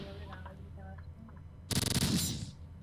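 A video-game gun empties its 16-round magazine in about half a second, a sudden loud burst of rapid-fire shots after quieter game sounds, then fading away.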